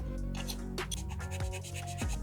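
Excess cement being scraped and filed off a Gunpla plastic model part with a hobby scraper and file, a series of short rasping strokes up close, quiet and alone.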